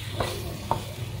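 Curry chicken with coconut milk being stirred in a pan, a soft scraping and gentle simmering sizzle with two brief spoon knocks, close and steady, no talk.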